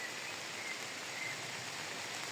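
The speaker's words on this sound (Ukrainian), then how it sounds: "Цей дощ мене, друзі, переслідує" Steady rain falling on surfaces, a dense continuous patter with no breaks and no voices, moderately close and even throughout.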